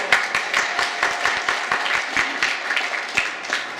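An audience claps at a Toastmasters table topics contest, a dense run of individual hand claps, steady and fairly close, carrying on for a few seconds without speech.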